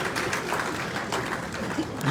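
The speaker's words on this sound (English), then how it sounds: "Clap for us now." Brief burst of audience clapping at an energy-sector investment conference, a steady dense patter that holds at even loudness for about two seconds with faint voices mixed in.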